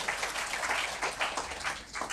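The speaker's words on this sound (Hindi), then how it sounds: "आप इनका भी तालियां बजा के स्वागत कर सकते।" Audience clapping to welcome a guest at a skills event, a steady, fairly faint wash of many hands with no pauses.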